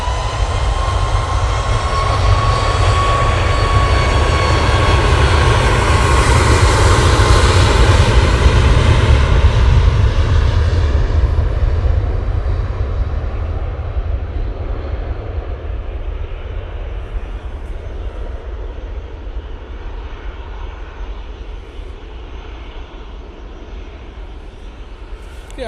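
A Ryanair airliner takes off at Manchester Airport, its engines roaring loud and steady close by, then slowly fading as the jet climbs away over about twenty-five seconds; no talking.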